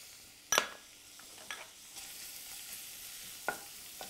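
Faint sizzle of garlic and leeks sauteing in a pan for a spicy Thai fish soup, with a few sharp utensil clicks and stirring scrapes over a quiet hiss.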